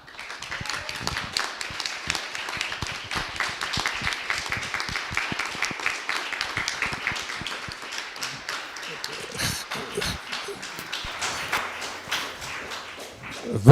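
An audience at a round-table discussion on Slovenian language and national identity gives sustained applause, a dense patter of many clapping hands that stays fairly even and fills the room throughout.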